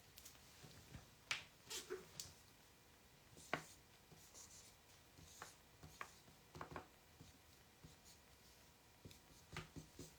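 A pen scratches across paper in short, irregular strokes and taps, quiet and close, with soft pauses between marks and faint background noise.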